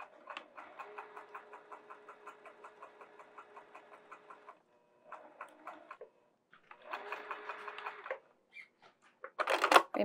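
A sewing machine stitches flannel for a tunic in quick rhythmic bursts: a long run of steady stitching, a short burst, a pause, then another run, all faint and close with no talking.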